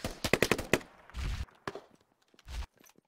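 Grenade explosions in the tactical shooter Squad: a rapid cluster of sharp blasts and cracks up front, then two heavy low booms with rumbling tails spaced apart, with scattered quieter pops between.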